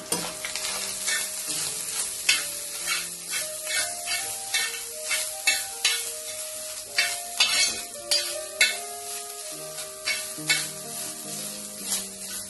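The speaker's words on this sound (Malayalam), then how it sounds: "പിന്നെ ചിരകി വെച്ച ഒരു മുറി തേങ്ങ ഇതിലേക്ക് ചേർത്ത് കൊടുക്കുക എന്നിട്ട് നന്നായിട്ട് തന്നെ ഇളക്കി കൊടുക്കുക" Grated coconut being stirred in hot ghee, a continuous, close sizzle with rhythmic scraping and clinking strokes of a spoon against the pan, and no voices.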